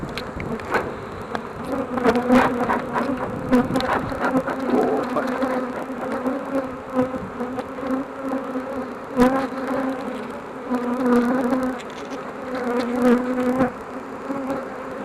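Honey bees swarm around an open hive, their dense buzzing close and continuous, with individual insects swelling louder as they pass near throughout the stretch.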